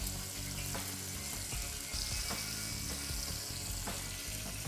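Ham and cheese filled veal rolls sear in a hot pan, a dense, continuous sizzle and crackle with occasional soft pops, close and steady throughout.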